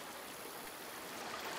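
Steady, soft rush of a river flowing in the video game A Plague Tale: Requiem, a faint continuous water murmur with no voices over it.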